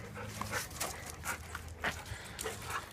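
Dogs play outside, panting and letting out short whimpers and yips in quick bursts, close by, with a person talking briefly in the background.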